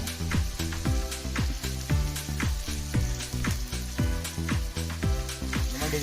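Washed mutton hits hot oil already frying with curry leaves and green chillies for village-style mutton curry, giving a loud, continuous sizzle with rhythmic stirring scrapes and clinks of a spoon against the pan.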